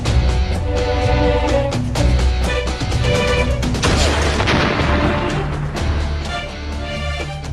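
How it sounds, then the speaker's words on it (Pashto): Detonated explosives blasting in a TV drama scene, a loud sustained rumble of booms and crashes with scattered sharp bursts layered over dramatic music, continuous for several seconds. "چاودېدونکو توکو ته چاودنه ورکړه"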